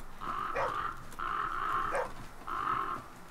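Crows in the video game The Flame in the Flood, three drawn-out harsh caws at an even spacing, clear and close over a quiet backdrop.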